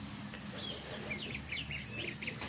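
Young ducklings and poultry at a farm give rapid high peeping chirps, clustered and overlapping, faint under a steady hiss of background noise.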